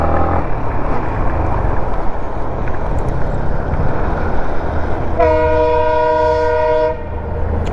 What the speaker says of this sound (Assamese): ট্ৰেইন আহি আছে ট্ৰেইন